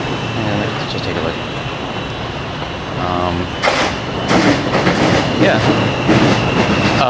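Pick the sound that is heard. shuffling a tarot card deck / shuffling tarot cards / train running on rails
train running on rails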